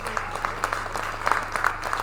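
A live theater concert audience claps after a performance, a brief burst of moderately loud, dense applause with individual claps audible.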